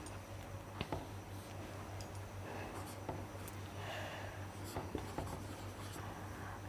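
Pen on paper writing out numbers during a class 12 accounting lesson: quiet scratching strokes and small taps spread across the stretch, close and faint against a low steady hum.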